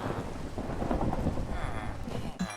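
Thunderstorm with rain in the game Minecraft: a low rolling thunder rumble over steady rain patter, moderately quiet, with a brief sharper sound near the end and no speech.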